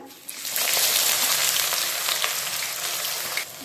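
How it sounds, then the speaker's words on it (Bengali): Onions sizzle steadily in hot white cooking oil, fried alongside cumin, garam masala and bay leaves for green chicken; a loud, continuous crackling hiss that swells just after the start and holds with no talk. "এবার পেঁয়াজটাকে লাল লাল করে ভেজে নেব।"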